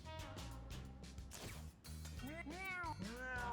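A cartoonish cat familiar in a video game meowing in a few rising-and-falling calls over game music and effects, with a person talking during the clip.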